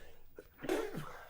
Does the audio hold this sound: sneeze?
yes